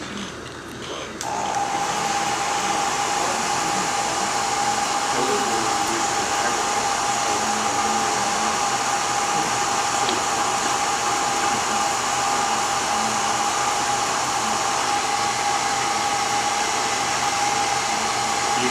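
A heat gun blows a steady, loud, droning rush of hot air onto a freshly thrown pottery piece. It starts after a brief quiet moment and runs unbroken to the end, with no talking.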